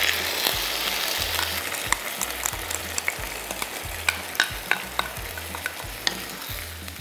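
Soy-braised potatoes (gamja jorim) with sesame oil and sesame seeds sizzle in a hot pan, a continuous frying hiss broken by repeated scraping stirs at a regular pace, close and moderately loud, with no voices.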